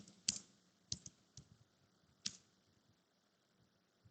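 Quiet, sparse keystrokes on a computer keyboard while someone types Swift code, a few sharper clicks spaced irregularly with pauses between them, close and alone without talking.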